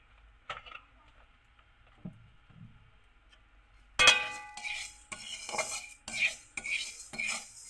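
Melted sugar stirred with white oil in a pan, starting quiet with a few faint scrapes, then brisk metal-on-pan scraping and clinks with a light sizzle from about halfway, close by.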